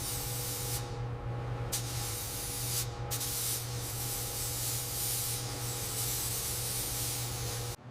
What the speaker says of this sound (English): Starting the spray now.